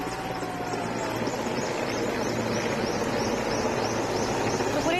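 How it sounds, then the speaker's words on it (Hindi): A helicopter flies overhead showering flower petals in a salute, its steady rotor thump and broad engine roar filling the air continuously at a moderate distance. "हेलीकॉप्टर द्वारा पुष्प वर्षा।"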